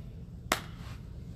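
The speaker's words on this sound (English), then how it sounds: "You can clap with your hands" A single sharp hand clap rings out once, crisp and close, with a short fading tail, set against a quiet low background hum.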